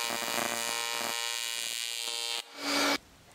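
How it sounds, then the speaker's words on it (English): A TIG welding arc under filler metal buzzes loudly and steadily with a dense electrical hum for over two seconds, then shifts to a brighter hiss before cutting off. "Notice how loud the arc is."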